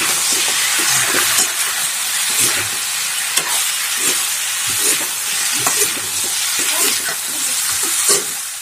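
Chicken curry with turmeric, salt and garlic is stirred in a sizzling pan, with repeated scraping strokes over a constant frying hiss, close and fairly loud.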